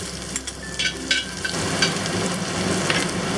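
Garlic sizzles loudly in generous hot oil in a wok over medium-high heat, a dense crackling hiss with a brief stirring scrape, steady for the whole stretch with no talking.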